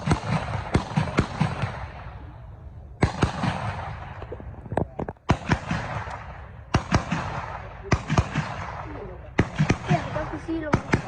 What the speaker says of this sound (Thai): ยิงขึ้นฟ้าเลยลูก